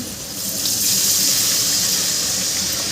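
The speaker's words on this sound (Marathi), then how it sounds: "आता यामध्ये आपण पाणी घालून घ्यायचं आहे" Water pours steadily into a pan of cooked potatoes for barnyard millet on a gas stove, a continuous close gushing splash that builds slightly and holds without any talk.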